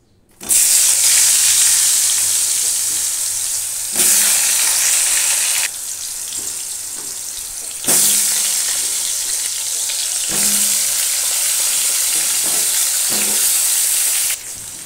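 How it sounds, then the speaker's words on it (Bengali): Potatoes dropped one by one into hot oil for a chicken curry, each addition setting off a loud, bright sizzle that holds steady for several seconds, with stirring scrapes in between. "এবারে আমি একে একে আলুগুলো তেলের মধ্যে ছেড়ে দেব।"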